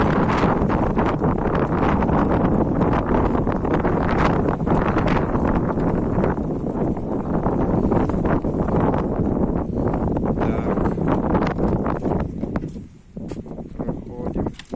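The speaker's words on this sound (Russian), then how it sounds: "Сильный ветер." Strong wind buffets the microphone outdoors near a house, a loud continuous roaring rush with gusty fluctuations that eases briefly near the end, with speech faintly mixed in.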